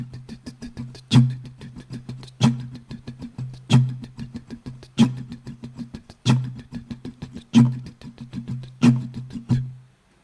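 Looped beatbox pattern with a steady kick-like thump about every 1.3 seconds, layered over a low repeating guitar riff; no voices speaking.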